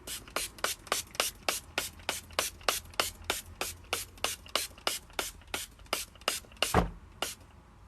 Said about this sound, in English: get like a fine mist sprayer bottle from Amazon